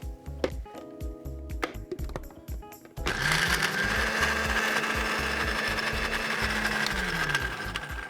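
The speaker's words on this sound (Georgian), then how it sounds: "ზეთი 2 სუფრის კოვზი და ვაბლენდერებთ" An electric blender whirs into a loud, steady drone as it mixes oil and vinegar, after a few seconds of scattered clatter and knocks.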